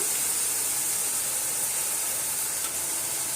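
Tomatoes sautéing in a pan for country chicken biryani give a steady, loud, continuous sizzle and hiss with no pauses and no talking.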